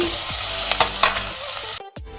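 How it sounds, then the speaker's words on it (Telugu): Onions with curry leaves fry in a pan for a potato tomato curry, a loud continuous sizzle broken by several scraping stirs of a spatula, then a sudden cut near the end. "ఉల్లిపాయలు వేసుకొని అది గోల్డెన్ కలర్ వచ్చేంత వరకు మనం ఫ్రై చేసుకుందామండి."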